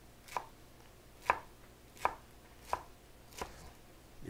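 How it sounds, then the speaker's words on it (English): A knife chops kale on a cutting board in five sharp, separate strikes spaced roughly a second apart, close and clear with quiet in between. "we're just going to cut up our kale here"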